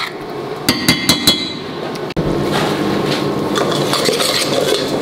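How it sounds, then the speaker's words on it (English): A creamy dahl curry in a restaurant kitchen pot gets a few sharp clinking taps from a utensil, followed by a steady close scraping and stirring sound. "I'm gonna give this curry a little bit of a stir."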